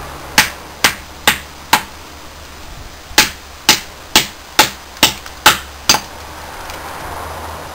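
Survival knife blade chopping wood across the grain: about eleven sharp, loud, separate impacts, first spaced and then coming in a faster run after a brief pause, each with a short ringing decay.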